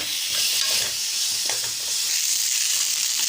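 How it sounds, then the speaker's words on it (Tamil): Large and small onions sauté in a little oil, producing a constant bright sizzle and hiss with faint stirring scrapes close by. "இந்த ரெண்டும் தான் எடுத்து கொஞ்சம் எண்ணெய் விட்டு நான் வதக்கிட்டு இருக்கேன்"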